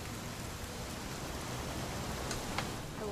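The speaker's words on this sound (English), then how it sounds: "It's going to rain the whole weekend, isn't it?" Steady rain from the video game What Remains of Edith Finch, a soft continuous hiss with a few faint ticks near the end, carrying on alone without talk.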